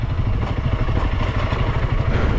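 A Honda CRF300L dual-sport motorcycle's 300 cc counterbalanced single-cylinder engine runs steadily on a single-track trail, a close, continuous mid-revving drone with slight rhythmic pulsing and no talk.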